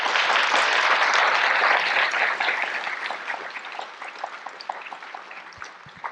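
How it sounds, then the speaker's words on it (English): An audience at a medical research symposium panel discussion on COVID-19 applauds the speakers, a dense burst of clapping that gradually thins and fades into a few scattered claps over about six seconds. "I would like to give the speakers a big round of applause."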